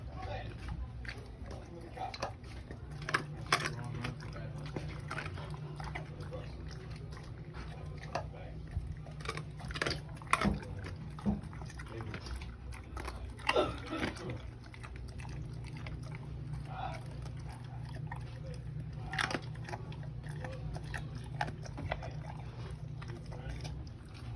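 A pet pitbull eats from its bowl, with repeated wet chewing and crunching bites close by, broken by occasional clicks and a low steady hum throughout.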